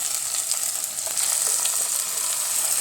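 Ground paste sautéed with onion and tomato for a snake gourd and lentil curry, producing a dense, even sizzle and hiss close by, steady throughout with faint stirring.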